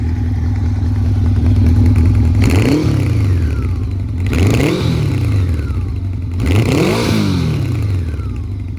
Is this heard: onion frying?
no